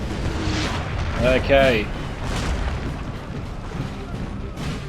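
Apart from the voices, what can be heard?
artillery fire in video game Napoleon Total War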